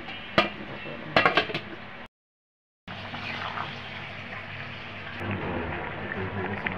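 A pot of bottle gourd and shrimp curry is covered: a few quick metallic clinks up close, a brief silence, then a steady soft hiss of simmering.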